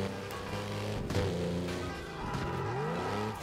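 A Carbon GT Concept car engine in Burnout Paradise revs loudly and climbs in pitch across shifts, with brief tire noise mixed in, near and continuous throughout.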